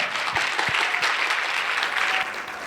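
An audience at a teachers' metaverse education presentation event claps for a presenter, a dense, even wash of applause with a few nearer individual claps, lasting under three seconds.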